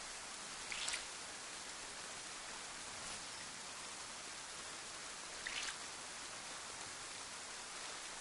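Heavy rain in the survival game DayZ, a dense steady hiss that fills the scene, with occasional sharper droplet spatters standing out briefly.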